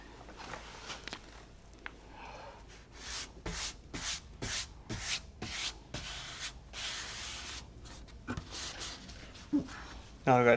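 A hand lightly rubs a vinyl checkered stripe decal onto a Toyota 4Runner or Tacoma truck body, producing soft repeated swishing strokes in short bursts, close and quiet.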